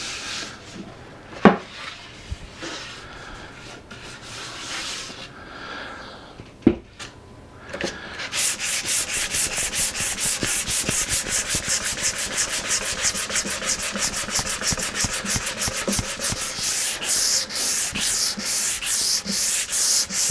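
Sandpaper is worked lightly over a polycrylic-coated wooden cornhole board, starting with a few soft scuffs and knocks, then settling into quick, rhythmic back-and-forth rubbing strokes, close and fairly quiet.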